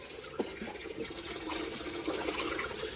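Tap water pours steadily into a small backyard swimming pool, making a continuous splashing rush at moderate level for the whole stretch, with no speech.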